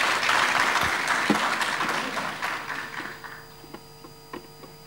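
Audience applause at a youth leadership forum in 2017, a dense burst of clapping that gradually thins out into scattered claps over a steady electrical hum in a hall.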